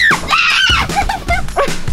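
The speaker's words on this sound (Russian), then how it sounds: "Там собака! Там собака!" A dog barks in a few sharp yips amid loud, excited shouting and screaming from people nearby, the barks partly buried under the voices.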